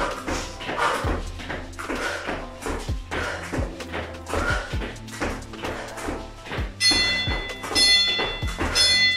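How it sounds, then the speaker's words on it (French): A gong-like tone rings out bright and sustained over the last couple of seconds, ending an interval of a home cardio workout. It enters over a steady thumping, tapping workout beat. "Attendez bien la fin du gong."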